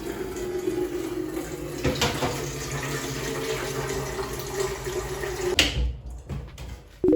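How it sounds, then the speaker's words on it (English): Water is poured from a kettle into a bucket and stirred for a bath. The water splashes and runs steadily for several seconds, then cuts off abruptly near the end. "boil water in a kettle and then pour it into a bucket and then mix the water in the bucket"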